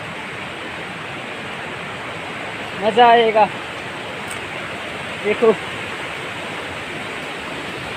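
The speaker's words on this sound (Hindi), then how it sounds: "आप ये सुन सकते हैं नदी का आवाज़" A hillside river rushes with a steady, broadband roar of flowing water, and a voice speaks briefly twice over it.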